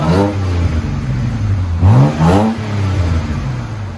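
A BMW 328i 3.0L inline-six with its rear muffler deleted, idling with a deep rumble and then revving sharply twice before settling back, loud and close.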